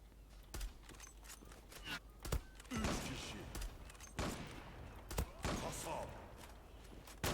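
Single shots from a CheyTac M200 sniper rifle in the online shooter Zula, several sharp reports spaced a second or two apart amid game ambience, with talk over parts of it.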